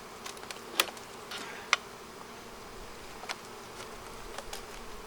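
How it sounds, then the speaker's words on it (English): Honey bees in a weak hive that is short of food give off a steady, faint buzz, broken by a few brief louder passes close by. "A lot of bees down there, but they got no food."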